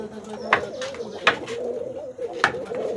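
A pair of Giribaz pigeons coo softly nearby, giving three or four short throaty calls spaced about a second apart over a low background murmur.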